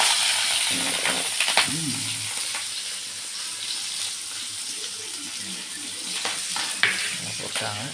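Green chillies and onions frying in hot oil for a Tamil okra tamarind curry, a steady close sizzle with occasional stirring scrapes, while a voice talks briefly over the cooking.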